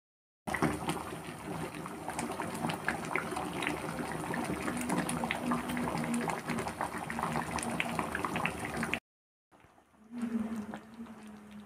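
Shahi egg kofta gravy bubbling and simmering in a pan after a glass of water is added, a dense continuous sizzle and bubble close up, cutting out briefly near the end before resuming.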